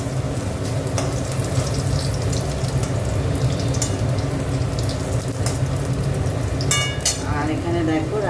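Dried red chillies and a bay leaf dropped into hot oil for a tempering, over bitter gourd already fried in the pan, giving a steady dense sizzle throughout with faint clinks and stirring, no voices.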